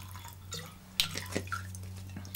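Jägermeister splashes and trickles briefly into a rocks glass with a few small drips and clinks, fairly quiet over a steady low hum.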